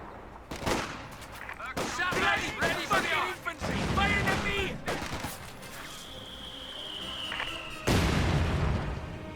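Mortar and gunfire in Company of Heroes 2, a World War II strategy game battle: repeated sharp blasts and crackling volleys over several seconds, with a loud thump near the end and a steady battlefield din throughout.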